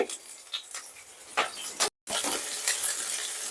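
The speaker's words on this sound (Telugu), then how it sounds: "వీటిని ఇప్పుడు కొంచెం దోరగా వచ్చిన వరకు వేయించుకుందాం" Chopped garlic, ginger, green chilies and cumin fry in oil for a capsicum stir-fry: a soft crackling sizzle with bursts of spoon stirring and a brief gap of silence midway.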